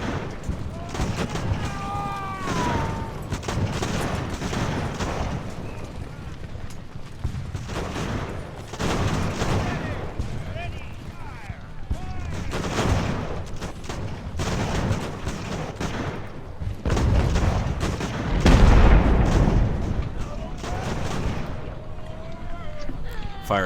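Musket volleys and artillery fire in the naval-era strategy game Ultimate Admiral: Age of Sail, a dense continuous crackle of rifle fusillades punctuated by heavier cannon booms, loud and unbroken throughout.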